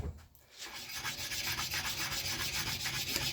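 A splitting axe blade scrapes back and forth on a sharpening stone in a steady, quiet rhythmic rasp, each stroke close and distinct with no speech.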